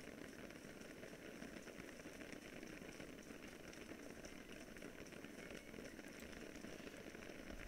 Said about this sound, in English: I hope this rain really stops soon